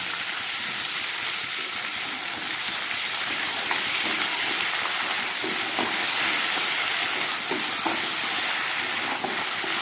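Rita fish heads, dusted with garam masala, fry in hot oil in a pan, giving a steady, loud hiss and crackle that carries on without a break for nearly ten seconds, close up and with no talking.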